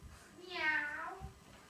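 A fluffy pet cat called Fluffy Bum gives a single clear, drawn-out meow that rises and falls, fairly close and standing alone against quiet background noise.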